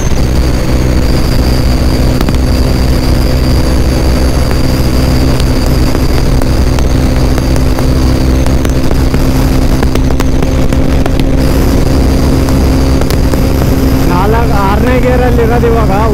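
Mojo BS-6 motorcycle cruising at speed in sixth gear, a loud steady engine drone with heavy wind rush filling the whole stretch, a voice talking over it.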